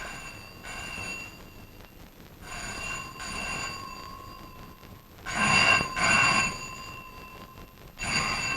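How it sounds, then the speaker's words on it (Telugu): A telephone rings in a Telugu drama scene, sounding four bursts of bright, tonal, electronic ringing separated by pauses of about two seconds. The ring is moderately loud and steady against faint background noise, with no one speaking. "ఫోన్ మోగడం కూడా వినపట్టం లేదా?"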